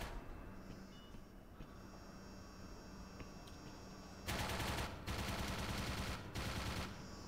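Bursts of automatic gunfire in the video game Black Mesa, a faint ambient hum and beeps giving way to two or three loud, sustained machine-gun bursts in the second half.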